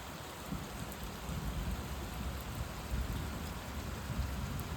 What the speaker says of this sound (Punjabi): ਤੇ ਮੀਂਹ ਪੂਰਾ ਜੋਰਾਂ ਸ਼ੋਰਾਂ ਨਾਲ ਪੈ ਰਿਹਾ